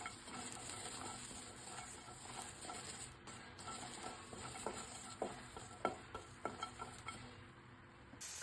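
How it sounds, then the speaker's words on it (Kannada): Green chillies roasting in a pan for chutney, a soft steady sizzle broken by scraping stirs and small clicking taps that grow more frequent toward the end. "ಚಟ್ನಿ ಮಾಡ್ಕೊಳ್ಳೋಣ. ಹಸಿಮೆಣಸಿನ್ಕಾಯಿ ಹುರ್ಕೋಬೇಕು."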